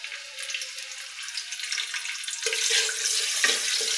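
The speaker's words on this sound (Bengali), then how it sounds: "এখন আমি এই গরম মশলাগুলো দিয়ে দেবো।" Whole garam masala spices hit hot oil in a cooking pot, giving a steady, close sizzling hiss that grows louder and rougher partway through, with no talking.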